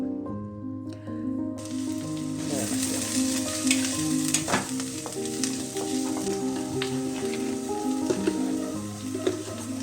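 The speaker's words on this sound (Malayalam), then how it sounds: "ഒരുമിച്ച് അങ്ങിട്ട് നന്നായിട്ടൊന്ന് വഴറ്റിയെടുക്കുക" Onion, green chili, garlic and curry leaves sauté in a pan, a steady close sizzle with occasional stirring scrapes running throughout, with a tonal hum in the background.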